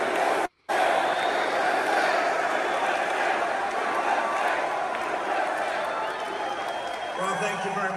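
A packed arena crowd at a Trump rally in Harrisburg, Pennsylvania, keeps up a loud, continuous roar of cheering that breaks only for a moment near the start.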